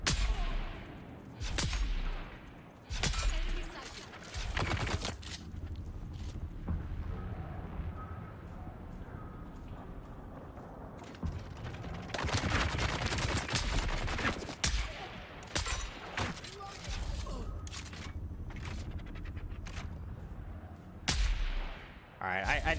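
Repeated gunshots ring out in the video game Dune: Awakening as a player fires at an enemy, sharp, loud cracks in irregular bursts spread across the stretch, with a dense volley in the middle and someone talking between shots.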